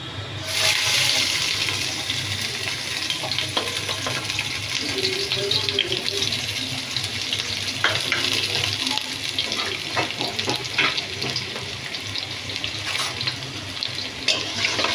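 Sliced onion dropped into hot soybean oil in a pan for pulao, giving a steady broadband sizzle and hiss with occasional stirring clatter throughout, under faint background voices.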